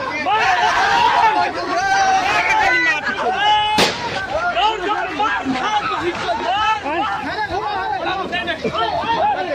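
Police firing gunshots into the air during a land dispute among villagers, with one sharp loud crack rising out of a dense, noisy crowd of shouting and chattering voices.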